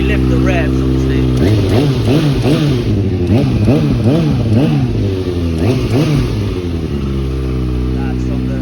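A 2015 Kawasaki ZX636R sport motorcycle with an Akrapovic exhaust revs repeatedly, its engine climbing and dropping in a series of sharp, loud blips close to the microphone before settling back to idle.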